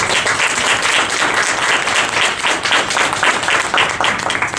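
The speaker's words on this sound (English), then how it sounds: "can we just give them a round of applause?" A panel discussion audience applauds the panelists with steady, dense clapping that holds at full strength throughout, close and loud with no talk over it.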